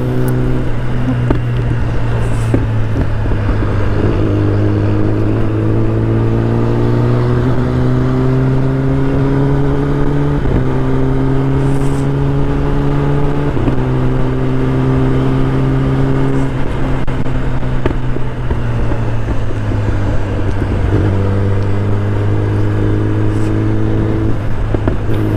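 Loud, continuous engine drone of a Royal Enfield Bullet and a Jawa motorcycle racing up close on a road, pitch climbing and dropping with repeated gear changes as the bikes speed along.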